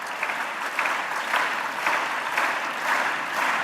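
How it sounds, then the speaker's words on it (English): Audience applause at a world cultural festival in Malaysia, with steady, dense clapping filling the whole stretch and no one speaking over it. "Let's give them all a big round of applause."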